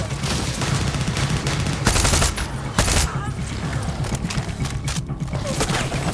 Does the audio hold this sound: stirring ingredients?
no